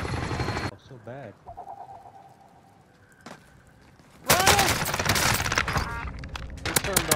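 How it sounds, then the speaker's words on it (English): Rapid bursts of gunfire from a video game shooter, sparse early on, then a dense loud fusillade in the second half, with a voice speaking over the action. "They're shooting, yep."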